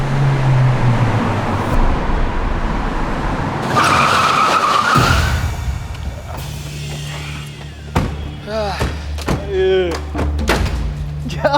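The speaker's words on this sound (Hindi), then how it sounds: "इतनी तेज गड्डी चला के पता नहीं इन लोगों को कहाँ पहुँचना है एक दिन" A car driving fast breaks into a loud, sustained tire skid squeal lasting over a second, followed by thumps and a door-like knock, with voices and street noise continuing afterward.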